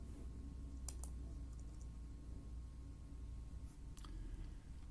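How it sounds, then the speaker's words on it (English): A few sparse keyboard clicks, soft and separated by pauses, come from commands being typed on a Chromebook over a quiet background hiss. "I had to open the Chrome browser and type the following two commands into"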